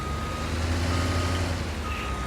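Big yellow digger in Farming Simulator 19 reversing, a steady tonal backup beep repeating over a low rumbling engine idle, no talking.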